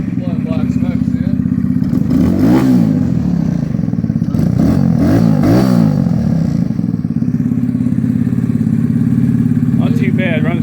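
Close, loud engine of a 2017 Kawasaki Z125 Pro motorcycle, with a foam intake and exhaust, idling with several sharp revs that climb and fall. Someone talks over it throughout.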